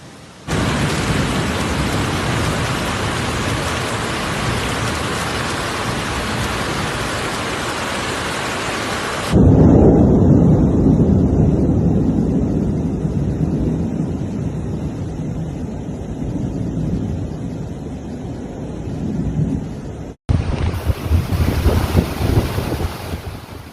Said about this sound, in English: The storm brought wind gusts exceeding 60 kilometers per hour. Combined with torrential rain and hail